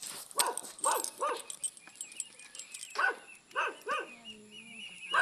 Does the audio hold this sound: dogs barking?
yes